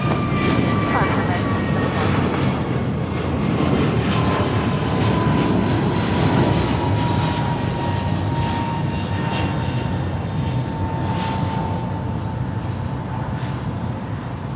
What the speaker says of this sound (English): It's Korean Airlines Flight 17 in from Seoul, Incheon, Korea, Boeing 747-8